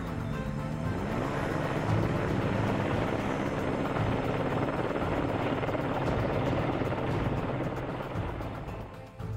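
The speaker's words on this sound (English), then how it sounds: "The helicopter's been working this area for well over an hour now." Steady, heavy helicopter rotor drone holding close and loud throughout over a snowy alpine wilderness search area, with a broad rumbling wash and no voices.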